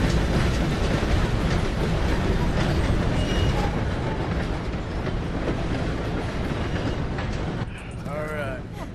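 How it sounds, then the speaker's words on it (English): A steam-era train in Red Dead Redemption 2 rumbles past with heavy, continuous rolling clatter and wheel noise, loud and close, under shouted voices, easing off near the end. "Gotta beat that train, Morgan!"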